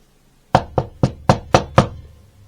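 Six sharp, evenly spaced knocks on a door, loud and close in a quiet room, each ringing briefly before the next.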